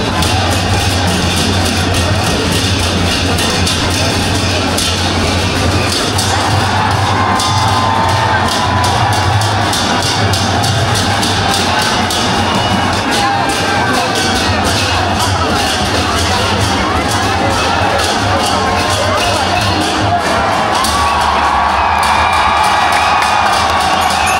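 A dense festival crowd in Kathmandu cheers, shouts and whoops as a float passes through throwing gifts, with people packed onto rooftops and windows; a loud, continuous roar of voices and children's cries fills the whole stretch without letup.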